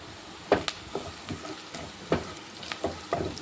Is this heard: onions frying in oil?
yes